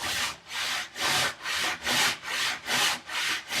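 A hand saw cuts tenon cheeks in wood in steady back-and-forth strokes, about eight rasping pushes in under four seconds, close and loud with no talking.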